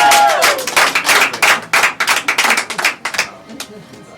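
An audience at a mind reading show breaks into loud, close applause with sharp individual claps in a quick, irregular patter. It thins out toward the end, and a brief voice can be heard at the start.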